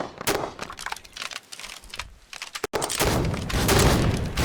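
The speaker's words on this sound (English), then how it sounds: "Alright, open fire." Gunfire in the war video game Foxhole rattles in rapid, dense bursts, a sharp volley, a brief gap, then sustained loud fire from several weapons at close range.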